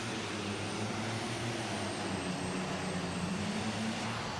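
An unlimited super stock Massey Ferguson pulling tractor, built in 2012, roars at a distance, a steady loud engine drone with a high whine over it, continuous throughout and heard alone without talk.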